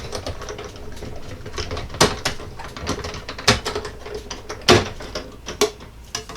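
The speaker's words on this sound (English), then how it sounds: "die cut machines do make some noise" A die cut machine presses dies through paper to cut oval punch flower shapes, a series of irregular sharp clunks and clicks over a low mechanical rumble, with no one talking.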